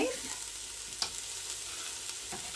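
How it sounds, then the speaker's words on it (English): Oil sizzles steadily in a Ninja pressure cooker set to sear sauté level 5, a quiet continuous hiss with a couple of faint clicks from stirring and no talk. "the oil is in the pressure cooker, and I'll reiterate, it's on sear saute number 5"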